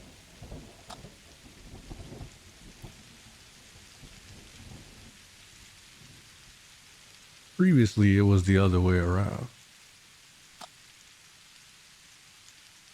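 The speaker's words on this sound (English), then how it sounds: "A drizzling rain has replaced the chilly autumn wind." A drizzling autumn rain falls steadily outdoors, a soft patter with faint low rumbles. A narrator speaks briefly over it midway, then the light rain continues alone.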